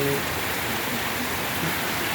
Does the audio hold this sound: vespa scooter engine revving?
no